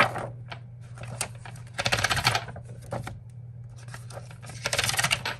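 Paper sheets being pulled off the metal discs of a disc-bound planner, giving several bursts of crisp snapping and tearing-like ripping with short pauses between, close by over a low steady hum.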